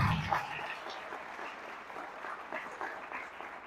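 A church congregation offers a round of applause to the King, steady clapping filling the room and gradually thinning, with a brief voice at the start.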